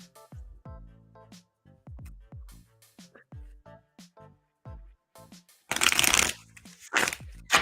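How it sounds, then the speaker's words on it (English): Tarot cards are handled and shuffled up close: a series of soft taps and slides, then a loud burst of rapid riffling near the end. "Let me do a quick shuffle, like a good shuffle."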